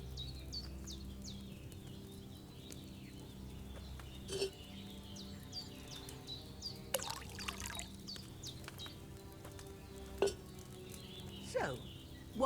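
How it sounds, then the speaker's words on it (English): Wine pours faintly into a cauldron in Kingdom Come: Deliverance II, a soft, intermittent trickle set against a quiet ambient bed with occasional bird chirps. "First, you have to pour the right base into the cauldron."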